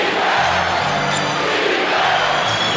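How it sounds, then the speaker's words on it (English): Loud, steady roar of a basketball playoff crowd in an arena, a dense continuous buzz of many voices with scattered shouts and cheers rising through it, no single voice standing out. "Now the crowd is abuzz."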